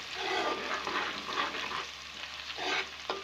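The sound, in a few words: ginger garlic paste frying in oil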